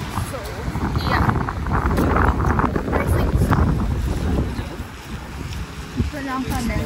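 Steady cold wind buffets the microphone in gusty rumbles in a wide open area, with a person talking faintly over the blowing noise.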